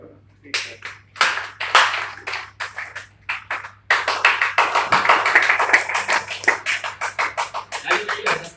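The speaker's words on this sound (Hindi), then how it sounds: "और ताली बजाने का एक तरीका होता है, जानते हैं आप लोग ताली कैसे बजाते हैं?" An audience at a motivational talk claps hands loudly. Separate sharp claps come first, then from about four seconds a fast, steady run of rhythmic claps, with some voices mixed in.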